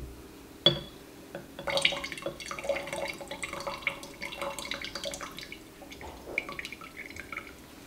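Water dripping and trickling into a pot of freshly watered houseplant cuttings indoors, with a sharp splash near the start and then a run of small wet drips and patters close by.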